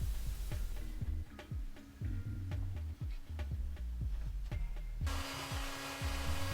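Router bit on an MLCS mortising table cutting a mortise in a wood workpiece held by hold-down clamps, taking shallow passes; steady motor whine with repeated rhythmic cutting bursts as the table slides side to side, louder and brighter near the end.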